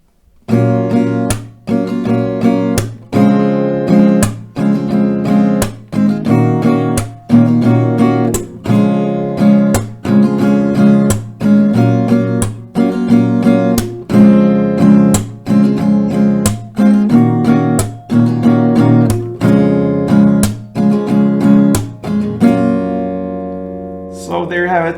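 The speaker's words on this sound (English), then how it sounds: "a couple of rounds of this chord progression with the standard tempo will sound something like this" An acoustic guitar strums the chord progression of a song at a steady standard tempo. The strokes are close and loud with a regular, even rhythm, and a final chord rings out alone at the end.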